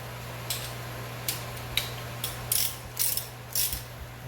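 A ratchet torque wrench tightening engine bolts on a 1000hp Crown Vic, with short clicking bursts at irregular intervals that grow longer and denser toward the end, close by over a low steady hum.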